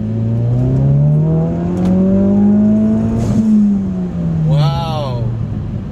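A 2017 Ford Focus RS hot hatch with an aftermarket exhaust accelerating through a second gear roll, heard from inside the cabin as a smooth rising engine drone that climbs, peaks and eases, with a brief whistle near the end.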